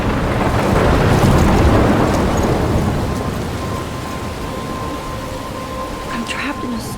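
A thunderstorm with heavy rain in the video game Life is Strange, a dense loud roar of rain and wind that swells early and then settles into a steady wash, heard alone.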